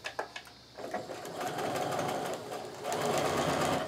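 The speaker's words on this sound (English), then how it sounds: "So now I'm going to sew another scant quarter inch seam down both sides of that line." A sewing machine stitches a scant quarter-inch quilt seam, starting with a few short bursts and then running in a steady, continuous whir that picks up speed near the end.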